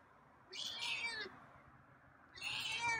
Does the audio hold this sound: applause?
no